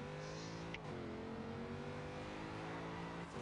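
A Nissan Fairlady Z 432 rust rod with 928 horsepower launches in Forza Horizon 2 on Xbox One, its engine holding a steady, droning note near and loud throughout, with a brief shift midway and no speech.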